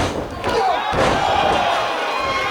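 Wrestler driven down onto the mat by a spear during a live pro wrestling show, a loud impact landing amid a roaring arena crowd that keeps cheering steadily afterward.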